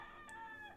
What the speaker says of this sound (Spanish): ¿Qué hace cantando a la 1 de la mañana ese gallo